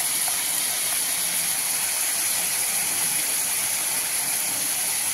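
Onion paste sautés in a pan, giving a constant bright hissing sizzle, close and steady throughout with no breaks or talking.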